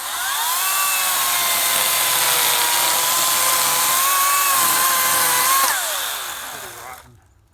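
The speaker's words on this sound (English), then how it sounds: "see what this chainsaw will do" A Ryobi 40V electric chainsaw runs at high, steady speed while cutting through a dead, rotten maple, a loud whining buzz with slight pitch dips under load before it winds down and stops.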